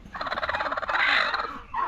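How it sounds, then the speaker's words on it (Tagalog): A turkey gobbles loudly and close by, a rapid warbling burst followed by a short trailing call. "Ano na naman yung uh, pabo?"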